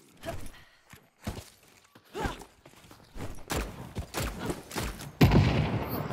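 Gunfire in a video game shooter: scattered bursts and single cracks mixed with thuds and footsteps, uneven in loudness, ending with a louder blast near the end.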